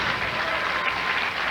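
Steady, dense applause from a crowd at Roseland Bowl during the 1999 PBA Canandaigua Open bowling tournament, continuous and even with no voices.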